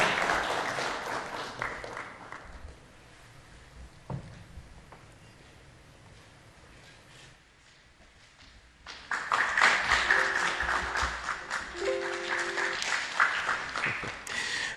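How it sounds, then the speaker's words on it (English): Audience applause at a governance project launch, honoring best-performing councils; a crowd claps for a few seconds, dies away to quiet room tone, then swells again into a fuller, louder round. "Let's give them a round of applause"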